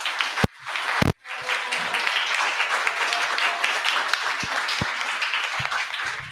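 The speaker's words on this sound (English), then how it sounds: "one final huge round of applause for Crystal" Sustained applause from an indoor audience at a Nerd Nite Okinawa evening, dense and steady for several seconds after a couple of sharp thumps at the start.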